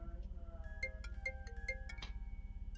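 An outgoing phone call rings back through a handset, giving faint repeated tones with a steady electronic pitch and short rhythmic pulses over a low constant hum, with no voices.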